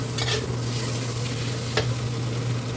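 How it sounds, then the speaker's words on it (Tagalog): Beef stir-frying in a pan with a little oil for a Chinese-style dinner dish, giving a steady close sizzle with a couple of brief scraping stirs over a constant low hum. "Yung nasisan ko na beef. Stir fry siya."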